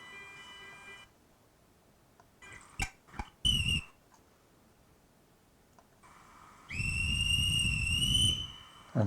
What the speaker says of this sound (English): And here's the whistle